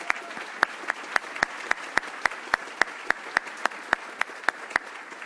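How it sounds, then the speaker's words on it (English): Audience applause at the Texas National Security Forum comes through as a thin, steady run of evenly spaced claps, sounding like a small number of hands, moderately quiet, with no voices over it. "Please join us in applauding all their hard work."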